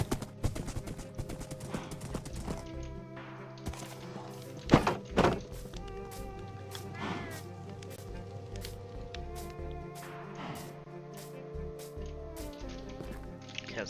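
Minecraft horse hooves clop in a game world, a series of soft, hollow thuds with a few sharper knocks in the middle, fairly quiet and without speech.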